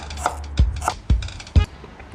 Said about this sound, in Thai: ตัวนี้หั่นตะไคร้นะครับเล็กๆนะครับ